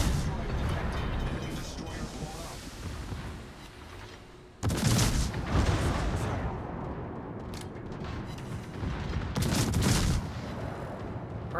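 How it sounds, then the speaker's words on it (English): Battle gunfire in Warhammer Dawn of War, a dense, crackling fusillade broken by two sudden louder volleys of shots and blasts. "he's taking a lot of fire in this fight"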